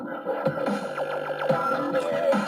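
Music from a Saicoo waterproof Bluetooth speaker turned face-down sounds dull and muffled, treble cut away, leaving a boxy, bass-heavy tune at moderate volume.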